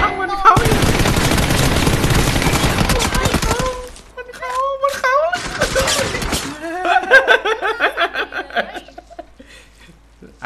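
Bursts of automatic gunfire in a shooter video game, rapid and loud, followed by sparser shots as players talk and laugh over them.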